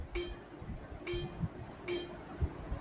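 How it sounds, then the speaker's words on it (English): An unprocessed silent pluck synth preset in FL Studio plays three soft, evenly spaced plucked notes, each a short bright attack with a brief tonal decay, heard alone. "One is a silent pluck, which sounds like this."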